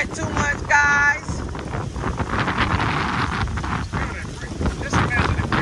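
Gusty wind roars across an open rooftop during bad weather in The Gambia, buffeting the microphone steadily throughout with loud rushing bursts, while a person talks over it.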